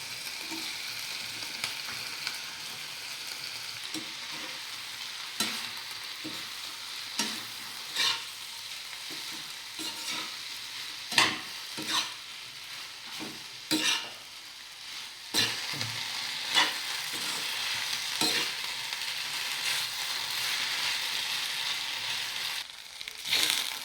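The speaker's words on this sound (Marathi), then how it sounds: "टमॅटो केचप टाकून सगळं छान मिक्स करून घेऊ आणि आपण बनवलेले नूडल्स आपण यामध्ये टाकूया" Wheat flour noodles being stir-fried with tomato ketchup in a pan sizzle steadily, with frequent scraping and clattering strokes of a spatula mixing the food.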